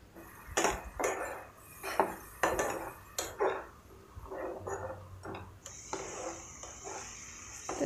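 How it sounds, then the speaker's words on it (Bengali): A spatula scrapes and clinks against a pan while masala with chilli and coriander powder fries, irregular metallic knocks and scrapes over a soft sizzle, close and fairly quiet. "তো আমি এখন মশলাটাকে ভালো করে কষিয়ে নিচ্ছি।"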